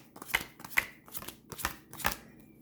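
Playing cards, oracle-style Moonology deck, being shuffled in several quick riffling bursts close to the mic, each burst crisp and brief with short gaps between, no voices.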